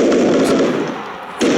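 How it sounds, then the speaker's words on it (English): A bazooka in the mobile shooter Modern Combat 5 sets off a loud booming blast with a rumbling tail, and a second sharp hit follows near the end. "That was bazooka."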